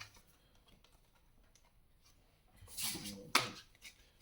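A pack of tarot cards drops and scatters during a card reading, a short soft flutter followed by a sharp slap, heard alone against quiet room tone.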